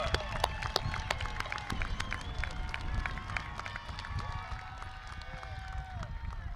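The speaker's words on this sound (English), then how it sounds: "Let's give them a rowdy West Side round of applause" A graduation crowd at Memorial High School applauds its alumni with loud, sustained clapping mixed with whoops and whistles, a busy wash of hands and cheers filling the hall.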